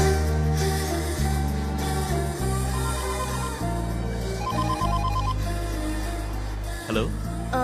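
A mobile phone rings in a comedy film scene, a bright repeating tonal ringtone melody in short stepped phrases that carries on near and loud for several seconds with no talk over it.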